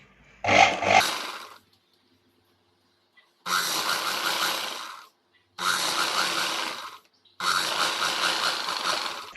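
An electric sewing machine stitches a katori blouse, its motor whirring in three sustained runs of roughly two seconds each, separated by silent pauses, after a brief louder burst at the start.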